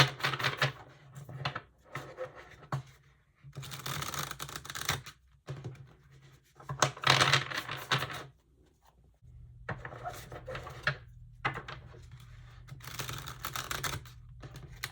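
Tarot cards are shuffled in repeated bursts of riffling and crisp clicking, with short quiet pauses between each round of shuffling.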